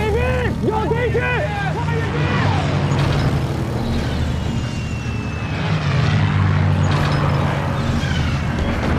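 Enemy military aircraft in a war film drone loudly and continuously overhead, mixed with shouting soldiers and battle commotion; a voice calls out early on.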